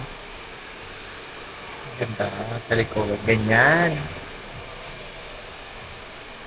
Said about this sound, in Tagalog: Blower na eh.